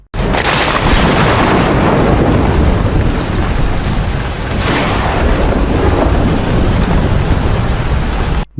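Heavy rain pours down loudly and without pause, while deep rolling thunder rumbles beneath it throughout.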